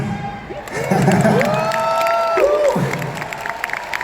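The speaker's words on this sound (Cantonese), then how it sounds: "掌聲！" A concert audience at a Hong Kong stop of a 40th anniversary world tour breaks into applause mixed with loud cheering and high whooping shouts, swelling and then easing over a few seconds.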